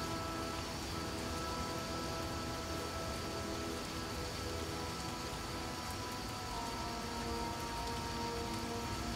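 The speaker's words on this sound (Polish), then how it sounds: "Nie widać przez ten deszcz" Steady rain pouring in The Witcher, a dense continuous hiss of falling water with faint rumbling beneath, unbroken and evenly loud throughout.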